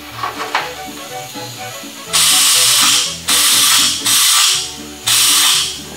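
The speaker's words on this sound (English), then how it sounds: "to use your flange tool, what you're going to do is you're going to take your flange tool just like you see" A hand flange tool works a sheet metal repair panel on a 1969 Volkswagen Karmann Ghia, giving several loud, close hissing, crunching bursts, each about a second long, repeating in a steady rhythm.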